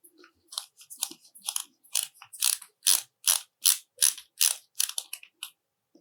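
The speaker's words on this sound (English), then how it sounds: "Let's get the first of the screws starting to go in." Screws driven into a Prusa Core One Nextruder: a quick, even series of dry ratcheting clicks in short bunches, close and clear, with nothing else in the background.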